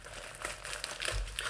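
Plastic seal being peeled and pulled off a new Varmilo Yakumo VA108M keyboard, a close, continuous crinkling and crackling lasting the whole moment with no talking.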